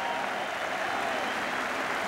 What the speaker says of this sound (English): the appreciation of the crowd showing clearly that they have enjoyed the afternoon